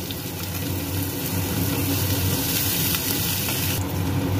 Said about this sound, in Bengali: পেঁয়াজগুলো হালকা করে ভাজা হয়ে গেছে, দিয়ে দিচ্ছি এর মধ্যে রসুন কুচি